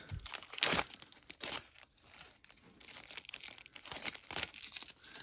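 Protective plastic film crinkles and tears as it is peeled off an Asus GeForce RTX 5060 Ti 16GB Prime OC graphics card, with uneven bursts of crackling across the whole span and no talk.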